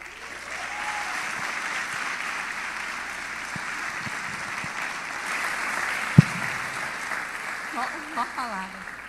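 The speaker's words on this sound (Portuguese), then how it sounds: "já pode ser recebida com aplauso" Sustained audience applause fills a morning session of a Carnival conference, a steady wash of clapping from a large crowd with faint voices underneath and one sharp thump near the end.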